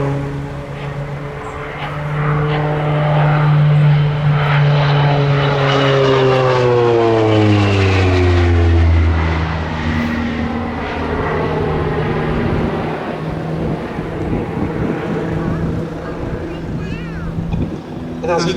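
A North American OV-10B Bronco twin-turboprop flies an aerobatic display at an air show, its loud propeller drone sweeping down in pitch as it passes close, then fading to a steadier distant hum.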